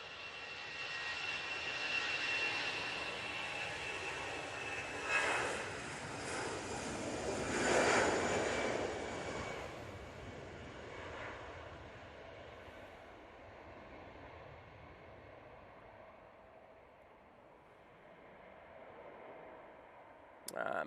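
EasyJet airliner's jet engines roaring on the takeoff roll, a loud swelling whine and rumble that peaks around the middle then slowly fades as the plane pulls away.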